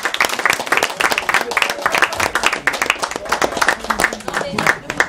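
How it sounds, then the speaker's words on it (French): An audience at a Paris legislative campaign meeting claps hard and steadily, a dense, loud wash of applause throughout with voices mixed in. "je vous demande d'applaudir très fort"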